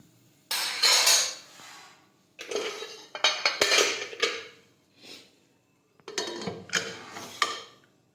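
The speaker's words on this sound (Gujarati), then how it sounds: "હવે આપણે કુકરનું ઢાંકણ છે તે બંધ કરી દઈશું." A pressure cooker lid being fitted and closed over a pot of mixed vegetables, loud metallic clanks and scrapes in three bursts separated by short pauses, close and without talk.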